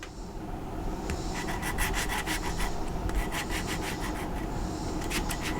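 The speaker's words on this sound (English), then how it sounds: "continued on with sanding down the legs and the top of the legs a bit better" Steady rhythmic rubbing of sandpaper on the solid wood legs of a coffee table being refinished, close up, with repeated scratchy strokes over a constant hiss and no talking.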